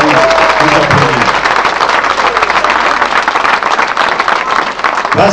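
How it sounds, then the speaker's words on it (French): An audience at a political rally applauds with dense, loud, sustained clapping that fills the whole moment, with a voice briefly heard at the start. "Et c'est là-dessus que je voulais vous applaudir."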